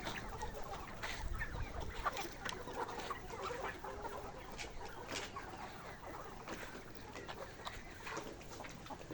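Layer chickens cluck and chatter continuously in the background, a busy, moderately faint flock sound with scattered short calls.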